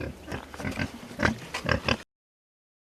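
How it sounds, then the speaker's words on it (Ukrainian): Three piglets grunting and snorting in quick bursts, close by, before the sound cuts to silence. "Це наші поросята"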